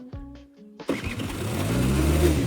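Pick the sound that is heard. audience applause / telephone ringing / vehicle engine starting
vehicle engine starting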